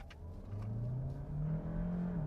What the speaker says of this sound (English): We're going to test the acceleration first